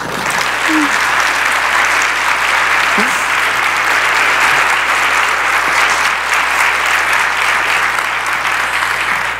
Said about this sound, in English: Let's give one more round of applause for Dr. Sanchez